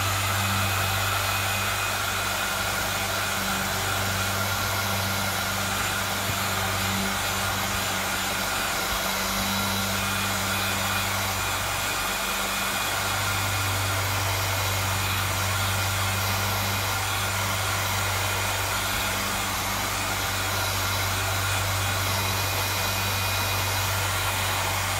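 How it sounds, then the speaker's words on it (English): A handheld craft embossing heat tool blows steadily while drying paint on a wooden spoon, a continuous loud whooshing hiss with a low motor hum, unbroken throughout with no talking. "I've got this heating tool that is a craft tool for when you're doing cards and embossing"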